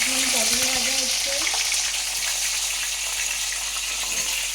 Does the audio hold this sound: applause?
no